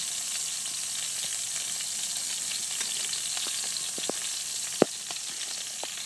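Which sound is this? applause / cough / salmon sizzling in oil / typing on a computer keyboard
salmon sizzling in oil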